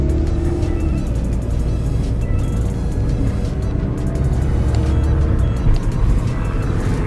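A Mini Cooper's engine hums steadily from inside the cabin, a continuous low drone with road noise as the car pulls away in drive.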